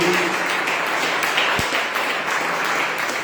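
Applause from a church congregation during a worship service, a steady dense clapping with a faint tap near the middle, continuous and moderately loud.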